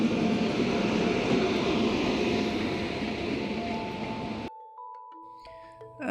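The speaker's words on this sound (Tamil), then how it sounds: "ட்ரெயினும் வந்துருச்சு." A loud, steady rumble of a train rolling in, fading abruptly into quieter station sounds with tonal beeps.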